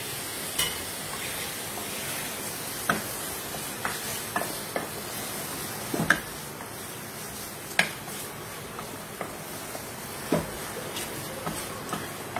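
Mutton fries in hot oil with a continuous soft sizzle while a spoon stirs it, scraping and knocking against the pot at irregular intervals, several sharp clinks standing out.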